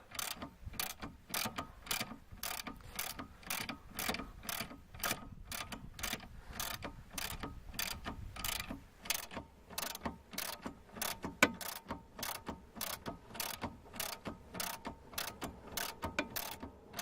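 Ratcheting clicks from a wrench tightening the nut on a car's stabilizer bar link, a long steady series of sharp, evenly spaced clicks close by, with no talk.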